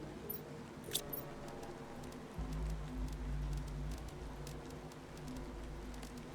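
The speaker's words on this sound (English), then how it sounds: "It's raining up there." Rain falls in the video game The Planet Crafter as a soft, steady patter with scattered ticks, faint and continuous under a low ambient hum, with no talk.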